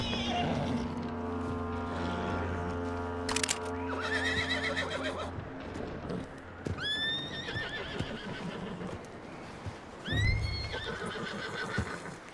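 A horse in Red Dead Redemption 2 lets out repeated whinnies and neighs, mixed with hoof clops and other game ambience, fairly quiet overall with some talk underneath.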